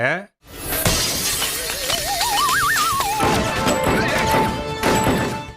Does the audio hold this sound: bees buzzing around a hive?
no